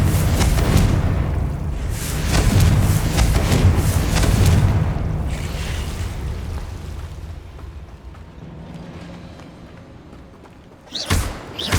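A Confringo blasting curse explodes in Hogwarts Legacy, a deep booming rumble that swells and slowly fades over several seconds, followed by a sharp impact near the end.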